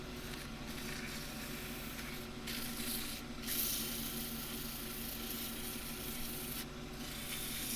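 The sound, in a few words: sanding a wooden bowl with oil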